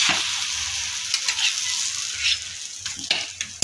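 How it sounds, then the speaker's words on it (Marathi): Egg paratha sizzling steadily as it fries on a hot pan, with a few soft scraping knocks as it is flipped, close and moderately loud with no talking. "आता आपण पराठा पलटी करून घेऊया।"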